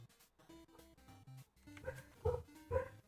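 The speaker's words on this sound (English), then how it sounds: "the dogs are going crazy right now" Several dogs bark in sharp, loud bursts during the second half, following a quieter stretch with faint tonal background music.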